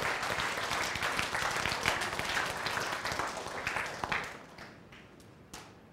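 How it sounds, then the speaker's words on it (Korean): Audience applause in a church lecture hall, a dense, steady wash of clapping that holds strong for about four seconds, then thins out and fades to a few scattered claps. "박수."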